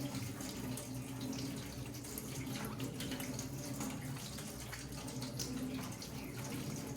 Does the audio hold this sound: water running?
yes